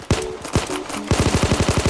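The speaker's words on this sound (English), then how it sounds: "and they shooting, bro." Video game gunfire from a Draco-style weapon in a shootout, a few spaced heavy shots followed by a fast, even automatic burst, loud and close.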